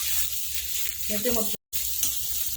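Steamed muthiya dumplings of mixed flour roasting in a pan with oil and spices, a close sizzle with stirring scrapes that cuts out briefly, then sizzles again.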